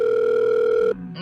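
A telephone ringback tone on an outgoing call sounds as a single loud, steady electronic tone for about a second, then cuts off.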